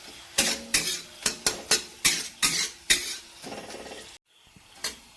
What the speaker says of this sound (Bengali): এইবার মশলা কটারে একটু ভালো করে মিশিয়ে নিচ্ছি।